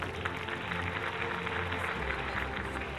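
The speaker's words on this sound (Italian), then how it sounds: "E un applauso va anche alle altre che ci salutano, ma che poi rivedremo con un grande applauso" Steady audience applause fills a beauty pageant hall, dense and continuous clapping from a large crowd, moderately distant and even throughout.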